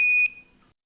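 Water-level alarm buzzer on a NodeMCU ESP8266 ultrasonic sensor setup gives a single loud, steady electronic tone, about a quarter second long, which then fades away.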